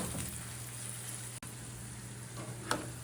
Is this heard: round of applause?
no